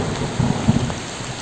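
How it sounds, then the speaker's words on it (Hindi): Steady rain falls through a teak rainforest, a dense hiss of drops on leaves with a soft low rumble beneath, constant and fairly loud with no voices. "दोस्तों बारिश की आवाज़ सुनो आप।"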